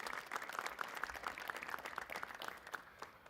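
An audience gives a panel discussion on Industry 4.0 a round of applause, light scattered clapping that sounds distant and faint, fading toward the end.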